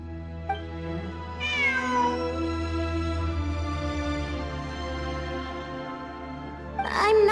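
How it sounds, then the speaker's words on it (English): A cat meows in the video game Genshin Impact, a long drawn-out clear meow following a brief short call, then another sharp meow at the end, close and alone. "It really is a cat"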